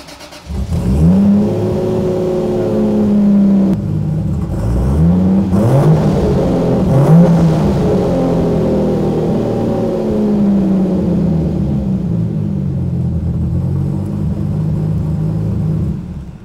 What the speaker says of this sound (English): I'll just drive it on the dyno quick here, and just see if I can get the plugs to clean up at all